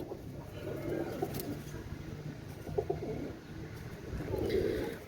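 Teddy 128 pigeons, a running pair, cooing in soft repeated bursts close by, with low-level background noise and no talking.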